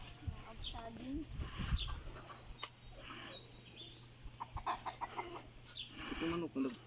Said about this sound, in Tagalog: Ito manok manok.